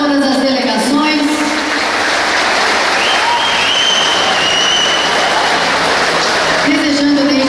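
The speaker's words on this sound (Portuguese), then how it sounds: "Uma salva de palmas a todas as delegações" Crowd at the opening ceremony of a neighborhood youth Olympics applauding the athletes' delegations, a loud sustained roar of clapping with a tone and voices carrying over it from a public address.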